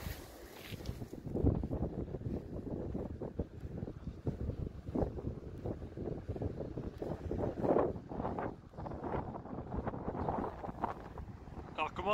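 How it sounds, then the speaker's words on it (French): Strong gusty wind by the sea near the Cotinière lighthouse buffets the microphone in continuous rumbling roars, with a faint open, seaside wash beneath it. "Alors, on commence à avoir quand même beaucoup de vent."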